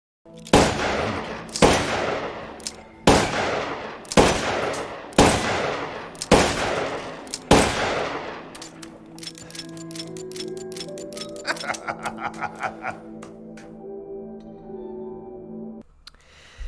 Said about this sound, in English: Now I am going to use the fully upgraded Wolf's Bane with infinitive ammo, because I simply like that gun.